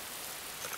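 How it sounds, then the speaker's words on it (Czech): Cartoon rain falls as a soft, steady hiss of fine drops, faint and even across a very short moment with no voices over it. "Už přestává pršet."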